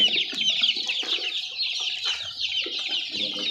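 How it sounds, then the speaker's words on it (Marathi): Kaveri country chicks cheep loudly and constantly in a dense high chorus while pecking at feed, with soft tapping and scratching under the calls. "त्याचे टोच मारून खात आहे"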